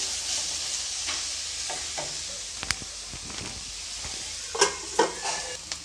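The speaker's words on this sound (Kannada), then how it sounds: "ಇದನ್ನು ಮತ್ತೆ ಒಂದು ಮೂರು ನಿಮಿಷ ಚೆನ್ನಾಗಿ ಎಣ್ಣೆಯಲ್ಲಿ ಫ್ರೈ ಮಾಡ್ಕೊಳ್ಳಿ" Chopped vegetables frying in oil in a pan for bakery-style masala bread toast: a continuous close sizzle broken by stirring taps and scrapes, with a few louder knocks near the end.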